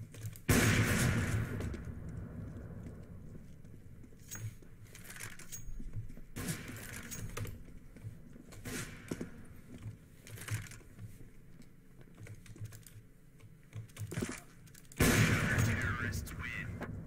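Sharp video game gunshot bursts crack out at irregular intervals, some in quick clusters, over a quieter background of movement and clatter.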